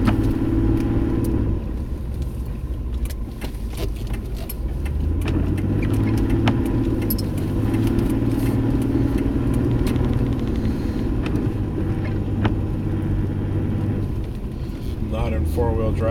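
A car pushes through deep blizzard snow drifts on Long Island, not in four-wheel drive, with a steady close engine rumble and grinding undertone that surges slightly, a voice heard at times over it.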